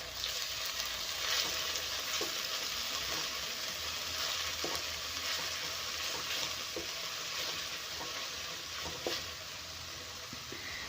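Noodle ingredients with garlic paste stir-fry over a high flame, making a continuous hissing sizzle, moderately quiet, broken by occasional sharp scrapes and ticks of stirring.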